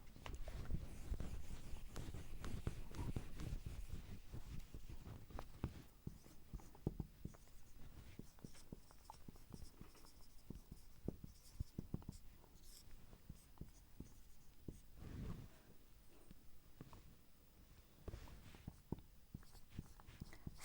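Marker or chalk writing on a board in a lecture on group homomorphisms, a quiet continuous run of scratchy strokes and taps with short pauses, fairly close, no voices.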